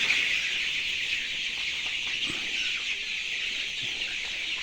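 Twenty-one-day-old broiler chickens on litter in a poultry house, a dense flock chorus of clucking and chirping that goes on steadily, close and fairly loud, with no talking.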